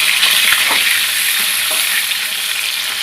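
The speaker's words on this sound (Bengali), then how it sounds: "সব মাছ আমি এরকম করে ভেজে নেব।" Pieces of catla fish frying in hot oil give a loud, steady, hissing sizzle that fills the whole stretch, with a few faint clinks underneath.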